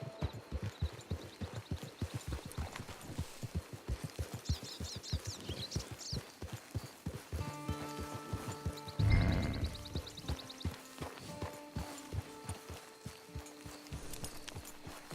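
In Red Dead Redemption 2 Online, steady clip-clop of horse hooves at a walking rhythm, fairly quiet, with birds chirping and soft ambient tones in the background.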